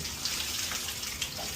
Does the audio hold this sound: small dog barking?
no